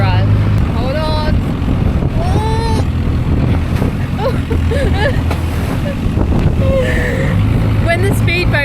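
A tour boat's motor drones steadily while cruising at sea off Koh Phi Phi, Thailand, with strong wind buffeting the microphone and faint voices now and then in the background.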